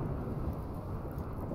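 A single deep rumble of thunder from a lightning strike in the video game RimWorld, low and muffled, rolling briefly at a faint level with no talk over it.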